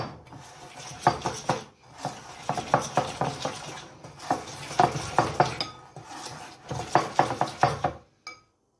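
Chocolate chip cookie batter stirred in a bowl right after yeast is added, giving bursts of scraping and clinking utensil strokes in an uneven rhythm, close and moderately loud, with short pauses between rounds.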